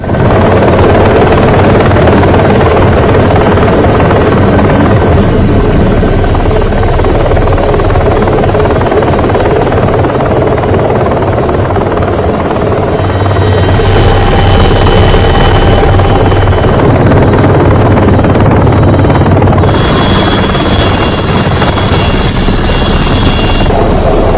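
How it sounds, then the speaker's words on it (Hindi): An Indian Air Force rescue helicopter flying very close and loud over rooftops, its rotor thumping steadily in a continuous heavy drone with a high engine whine on top. "किस तरह से भारतीय वायुसेना का हेलीकॉप्टर पहुंचा है श्रीलंका में"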